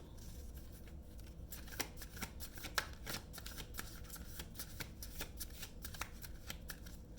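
Tarot cards are shuffled for a love reading, a soft rapid riffling and flicking of card edges repeating through the moment, quiet and close, with no talk.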